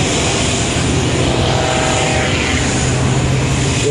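An MXS aerobatic propeller airplane flying manoeuvres, its engine a loud, steady, buzzing roar that fills the whole stretch without a break, with slight shifts in pitch as the aircraft moves.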